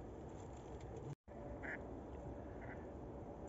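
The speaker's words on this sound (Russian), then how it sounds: "уточки в полном объеме начинают проявлять свои голосовые качества" Live decoy ducks on a September hunt at dusk give faint, distant quacks, a few short calls scattered over a quiet, steady background hiss, with no one speaking.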